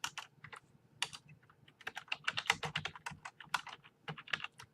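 Someone types on a computer keyboard while writing a program, giving a close run of quick, irregular key clicks in bursts with short pauses, clear and alone with no talk.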